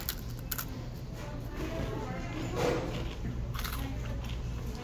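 Someone bites into and chews well-done fries dipped in ketchup, with crisp crunching bites close to the mic over a steady background hum.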